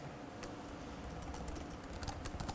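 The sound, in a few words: typing a command on a computer keyboard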